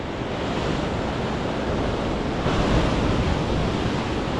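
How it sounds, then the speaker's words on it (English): Big ocean waves break below a sea cliff at a rocky fishing spot, a loud, steady wash of surf that swells slightly midway, with no talk. "I need to make the most out of the breaks in between the big waves coming in here."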